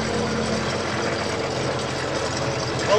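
MTZ 82.1 tractor engine running steadily at about 1500 rpm while working a corn field, a dense continuous diesel drone close by with no gaps, a brief rise in level right at the end.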